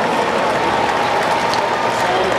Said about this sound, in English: Another round of applause for Team 3461, Operation Peace Robotics.